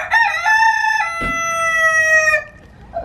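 A rooster at a park crows once, loud and close, a long harmonic call that holds for about two seconds before cutting off, with no talk.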